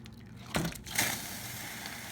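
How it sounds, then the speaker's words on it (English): A block of tofu dropped into hot and sour soup, one splash with a wet slap, then a second squishy splash a moment later, close and fairly quiet. "All that water just splashed all over."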